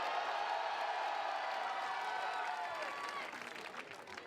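Applause and cheering from spectators at a FIBA 3x3 women's basketball series event in Orléans, a steady dense clapping that holds loud and then begins to thin toward the end.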